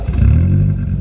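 A loud McLaren 720 engine roars close by, its deep rumble rising and settling as the motor revs.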